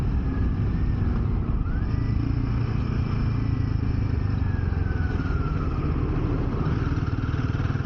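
A Royal Enfield Himalayan motorcycle ridden through city traffic, its engine droning steadily under a constant rush of road and wind noise, with faint passing vehicles and a distant horn.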